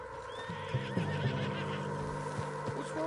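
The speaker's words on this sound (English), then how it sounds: "What's wrong with this horse?" A horse in the video game Red Dead Redemption 2 whinnies in a long, wavering call over a steady low hum, with a few hoof thuds and clatters around it.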